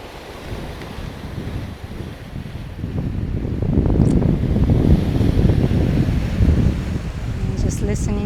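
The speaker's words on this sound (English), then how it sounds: "And just listening to the sound of waves." Sea waves wash onto the coast of Crete in February, a broad surging roar that swells and recedes, heavily mixed with wind buffeting the microphone.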